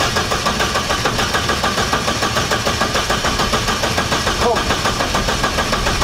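A SAAB engine fires and runs for the first time, a loud, even, rapidly pulsing mid-pitched idle throughout, with a short spoken word heard over it.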